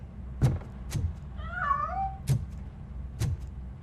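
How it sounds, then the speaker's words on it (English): A cat meows once in a drawn-out, wavering cry while escaping through a narrow passage, set between several sharp knocks or thumps nearby. "That cat must be hiding inside."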